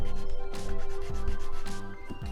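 Steady scraping and rubbing of a scribing tool across a Gunpla model plastic part, repeated back-and-forth sawing strokes close up, with no talking.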